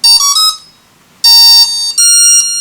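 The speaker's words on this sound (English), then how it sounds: "You get a series of beeps that tells you it's starting to initialise." A Simtoo Dragonfly Pro quadcopter drone sounds its start-up sequence: loud, bright electronic beep tones, several pitched chimes in quick succession with a short pause in the middle, alone without talking.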